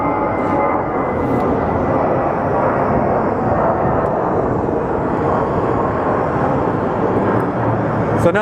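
An ABX jet in retro livery, arriving from Chicago, makes a constant, heavy engine roar that holds steady throughout at close range.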